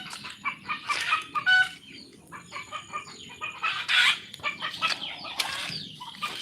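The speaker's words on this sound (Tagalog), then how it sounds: "nandyan lang po sila yung mga manok natin" Chickens on a farm cluck and squawk close by, with wing flapping and a rooster's crow mixed into a busy, uneven chorus of fowl.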